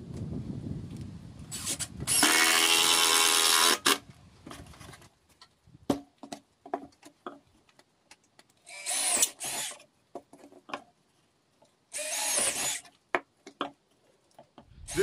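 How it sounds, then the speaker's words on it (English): A power drill whines in two or three bursts of a few seconds each, drilling a tap hole into a maple tree, separated by quiet stretches with scattered clicks and knocks. "We drill into the tree, into the maple tree"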